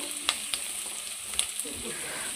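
Finely chopped green chillies fry in a hot pan with a steady close sizzle, broken by a few light clicks of stirring.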